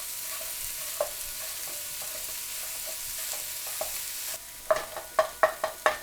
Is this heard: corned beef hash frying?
yes